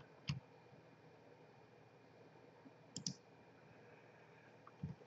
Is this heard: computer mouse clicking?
yes